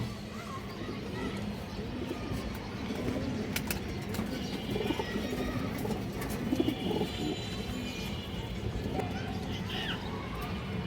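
Pigeons, including tournament-type birds at a market, give low soft cooing amid general bustle and occasional wing flaps, with someone talking over them much of the time.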